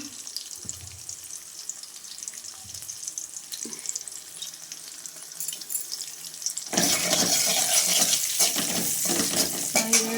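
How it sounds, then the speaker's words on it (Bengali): Ginger and green chilli frying in mustard oil: a quiet kitchen with light clatter, then a loud, steady, close sizzle that starts abruptly about two-thirds through and continues to the end. "ফোড়নে দিলাম হচ্ছে সর্ষের তেল দিয়েছি আদা ঝুড়ি ঝুড়ি করে আর কাঁচা লঙ্কা"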